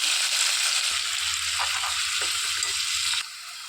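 Onions hit hot oil in a pan and fry with a loud, dense sizzle as the bubbling crackles build, then the hiss drops off sharply near the end.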